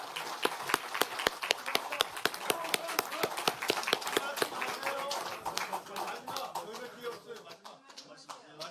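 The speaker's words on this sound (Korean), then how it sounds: "송은석 원내대표님께도 감사의 박수 한번 부탁드리겠습니다" Scattered, crisp clapping from lawmakers at a People Power Party caucus meeting, thanking outgoing floor leader Song Eun-seok; the claps are steady for about five seconds, then thin out and fade, with voices murmuring underneath.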